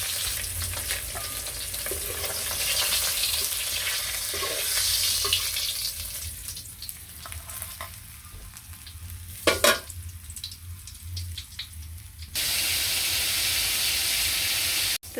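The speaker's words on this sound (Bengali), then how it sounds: "মাছগুলো সুন্দর করে ভেজে উঠিয়ে নিই। বেশ কড়া করে ভাজলাম।" Fish frying crisp in a pan over a village stove, a loud, dense sizzle that dips in the middle, is interrupted by a brief clatter, then returns at full strength.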